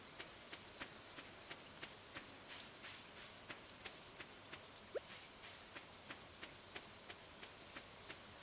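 Quiet, steady rain patters in the Stardew Valley video game, with soft, evenly spaced ticking drops over the hiss.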